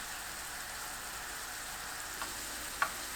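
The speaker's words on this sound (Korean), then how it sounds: "예열된 팬에 식용유를 넉넉하게 두르고 노릇하게 구워주세요." Pea cheese rice cakes fry in generous oil in a preheated pan, a steady soft hiss and crackle with a couple of small pops, close and quiet.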